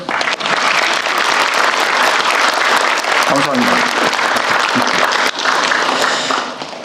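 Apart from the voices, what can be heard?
audience applause at a ministry briefing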